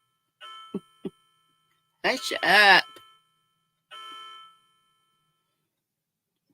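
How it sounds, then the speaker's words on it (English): A clock or doorbell chimes in a home, several ringing tones spaced apart with a decaying ring after each, while a voice speaks briefly between them. "Who knows how many times that doggone thing's going to chime?"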